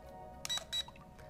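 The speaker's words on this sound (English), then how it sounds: "When you press this button, you will hear a sequence of beeps." An Ascend Aeronautics AR 800 motion-controlled drone controller gives short electronic beeps when its speed mode is set, two quick bright tones close together and then a softer blip over a quiet hum.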